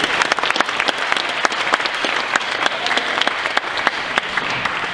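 Audience at a psychic entertainment performance claps after a correct card guess, a lively patter of individual claps from a modest crowd with distinct sharp hand strikes, steady for several seconds.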